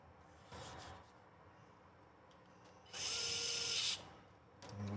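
Power drill driving screws back into the mounts of a Traxxas TRX4M RC truck, with a short whir early, a louder sustained buzz of about a second in the middle and another starting burst at the end, close and without talk.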